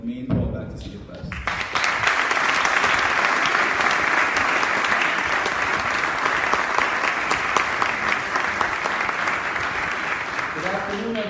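A school convocation audience breaks into loud, sustained applause to welcome a returning alumnus speaker. The clapping swells quickly after a brief spoken introduction and holds steady, with a voice starting again at the end.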